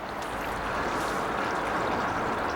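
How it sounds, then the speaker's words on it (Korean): Water flowing steadily in Bulgwangcheon, an urban stream in Eunpyeong, Seoul, heard as a continuous broadband rush that stays fairly loud and even throughout, with no voices over it. "불광천에서 물 흐르는 소리라고."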